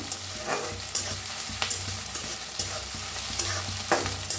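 Horse gram frying and being stirred in a pan, a steady sizzle under repeated scraping strokes of the spoon, close and continuous with no voices.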